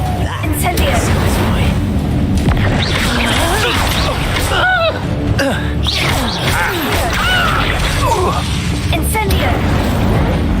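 Fire spell blasts in the Hogwarts Legacy video game crackle and burst repeatedly through a dense, continuous mix of combat effects and voiced shouts, loud throughout.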